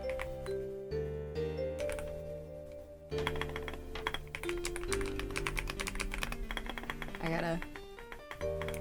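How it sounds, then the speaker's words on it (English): Clicky keystrokes from a new Bluetooth mechanical keyboard with soft, squishy keys, tapping in quick irregular bursts beneath steady background music and a talking voice. "you guys like the sound of my new keyboard?"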